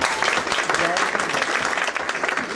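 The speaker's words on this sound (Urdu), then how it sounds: "دلاور جوئی صاحب کے لیے بہت سی تالیاں بجا دی" An audience at a charity dance and fashion show event claps steadily throughout, a dense continuous burst of applause with some voices mixed in.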